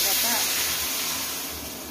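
Coconut milk boils in a hot pan with a continuous bright hiss and bubbling that stays close and steady, slowly fading a little over two seconds.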